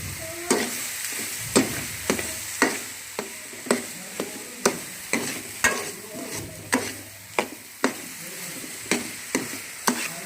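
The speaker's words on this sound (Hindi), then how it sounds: "और अच्छी तरह हम इसे भूनेंगे।" Carrot halwa (gajrela) with sugar being stirred and fried in a pan, with a steady rhythm of sharp spoon scrapes and knocks about twice a second over a soft sizzle, close and clear.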